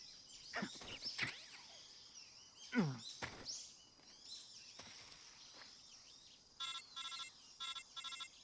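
A phone rings in the video game Metal Gear Solid 3, in two short bursts of rapid trilling rings that come after scattered jungle sounds and bird calls, faint overall.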